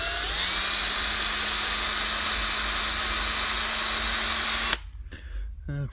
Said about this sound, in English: Make sure your drill is going in the right direction.